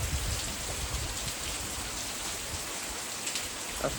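Heavy morning rain pours down at a farm, a dense, constant patter and hiss with scattered louder drops, unbroken and close by with nobody speaking.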